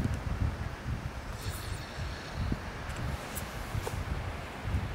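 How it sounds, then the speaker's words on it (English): Steady wind gusting at a riverside during centerpin fishing, a broad low rumble with buffeting against the microphone and faint rustling throughout, no talk. "And because it's windy"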